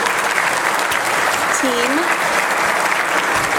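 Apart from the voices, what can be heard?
audience applause at police awards luncheon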